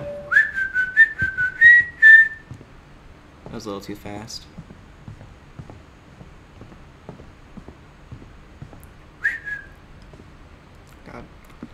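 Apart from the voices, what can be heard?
person whistling a Halloween tune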